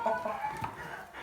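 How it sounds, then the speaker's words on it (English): Bielefelder chickens on a homestead clucking, a short run of close, moderately loud fowl calls with one brief bump in the middle. "This breed, Bielefelder Kenhuhn, or Bielefelder chicken in English"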